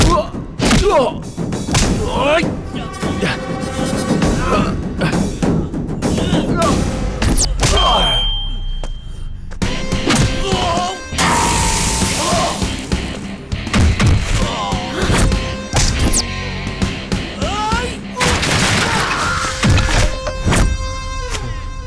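Heavy thuds of blows landing in a movie fight scene, repeated punches and slams over a dense, loud mix of dramatic music and effects, with voices breaking in between.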